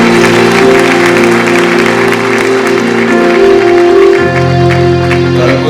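A church congregation applauds loudly and continuously as medals of appreciation are handed out. Sustained music tones run underneath the clapping throughout.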